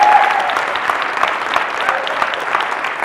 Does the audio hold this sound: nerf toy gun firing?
no